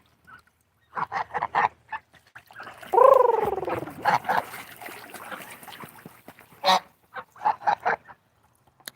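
Several Canada geese honk around a backyard pool, giving short repeated calls and one longer drawn-out honk, fairly close and loud, with gaps of quiet between bursts.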